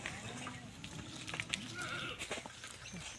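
Goats bleat intermittently on a farm in the Gir region, faint and somewhat distant against steady outdoor background noise, with a few higher cries standing out.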